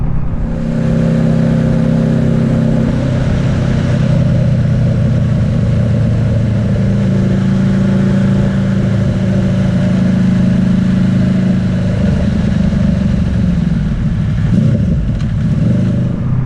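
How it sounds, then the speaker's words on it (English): Steady, loud engine drone of a motorcycle exhaust while riding to a bike night near Uttoxeter, a continuous low rumble with wind roar that holds for the whole stretch and shifts pitch slightly toward the end. "I was hoping to pick up the noise of the exhaust on it"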